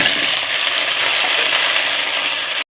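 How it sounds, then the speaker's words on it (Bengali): Cut potatoes hit very hot oil in a kadai and fry with a loud, close, steady sizzle that stops abruptly at the end. "তেলটা খুব ভালো করে গরম হয়ে গেছে। এবারে কেটে রাখা আলু দিয়ে দেব।"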